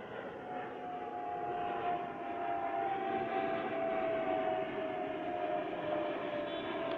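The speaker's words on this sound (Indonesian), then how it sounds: "ada pesawat lewat kayaknya" A steady, loud engine roar with a droning hum holds throughout, like a plane passing overhead, with no speech.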